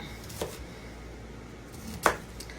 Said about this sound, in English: So I'm just chopping it roughly